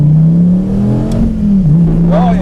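A 2013 SRT Viper launches hard on a wet road at sea level with two aboard, its engine droning loud and steady as the tires spin; a voice speaks briefly over the engine.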